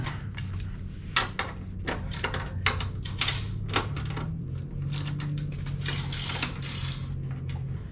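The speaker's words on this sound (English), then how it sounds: "Got 4 just adjusting bracket bolts to loosen." Adjusting bracket bolts are loosened on a McLane Greenskeeper reel mower, giving a run of close, sharp metallic clicks and taps at an irregular rhythm over a low steady hum.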